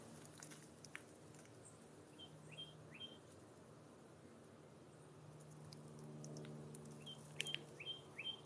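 A small bird chirps outdoors along a wooded trail, faint repeated short tweets in a few bursts over low, quiet ambient hum.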